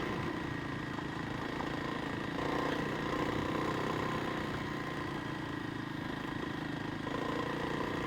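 A motorcycle engine pulls along in second gear on a local riding loop, a steady, moderately loud mid-pitched drone with slight swells in throttle and wind rumble, and no one talking.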